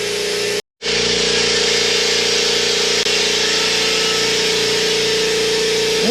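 A Stealth 20-gallon air compressor runs steadily and loud, a continuous motor drone with a rapid pumping pulse, briefly cutting out for a moment near the start before resuming without pause.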